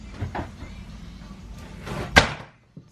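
A cabinet door in an Airstream trailer slides across like a small barn door, giving a brief rolling rub with a soft thump near the end, close by.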